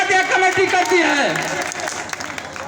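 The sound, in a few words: crowd applause welcoming a candidate on stage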